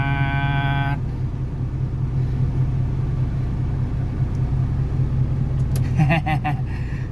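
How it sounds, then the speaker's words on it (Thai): A backhoe excavator drives along a road, giving a steady low engine rumble throughout, with short tonal beeps at the start and near the end. "ขับมาเนี่ย แมคโครครับ เจอกันระหว่างทาง"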